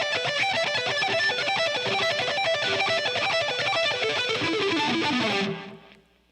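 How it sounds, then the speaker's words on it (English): Fast economy-picked electric guitar running a repeating five-note pentatonic pattern, even rapid notes with a slightly driven tone, played alone and ending on a ringing fade. "Five notes with this down-down economy thing, it would sound like this."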